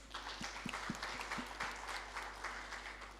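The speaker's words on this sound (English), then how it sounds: "May we please give ourselves a round of applause?" Small audience claps for itself in a round of applause, scattered, fairly faint clapping over a low steady hum.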